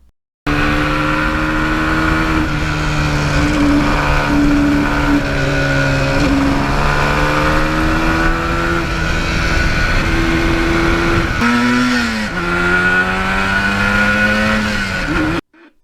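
A 1977 Yamaha RD400 motorcycle's two-stroke engine revs hard and loud through the gears, its pitch repeatedly climbing, dropping at each shift and climbing again, steady and close for about fifteen seconds with no voices.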